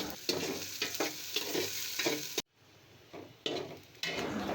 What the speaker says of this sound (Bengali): বড় একটি পাতিল নিয়ে সেখানে পরিমাণ মতো তেল দিলাম এরপর কুচি কুচি করে কাটা পেঁয়াজ খিচুড়িগুলো দিয়ে দিলাম